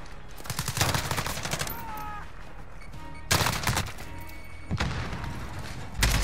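A machine gun in Modern Warfare fires loud, rapid bursts at close range, three or four separate volleys broken by short pauses with faint game sounds between them.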